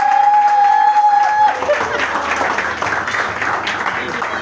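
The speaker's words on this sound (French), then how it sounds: "applaudissez s'il vous plaît" An audience applauds at a wedding ceremony as the newly married couple is presented. A sustained round of clapping swells in after a brief opening tone and voice, then continues steadily at moderate volume.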